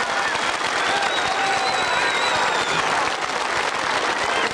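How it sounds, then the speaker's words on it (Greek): Crowd applause at an outdoor rally in Athens against the Schengen treaty, a steady dense wash of clapping filling the whole stretch, with a loud speaker's voice sounding over it. "Ένα θερμό χειροκρότημα."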